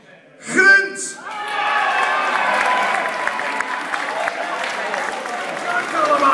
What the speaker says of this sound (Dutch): Dames en heren, geef ze een heel groot applaus.